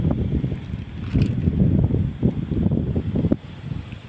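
Gusty outdoor wind rumbles against the microphone in uneven low bursts, rising and easing over a few seconds, loud and close, with no talking.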